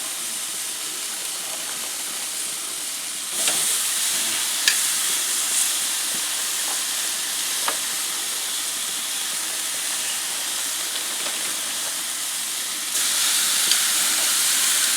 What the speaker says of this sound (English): Ooh, sizzle sizzle.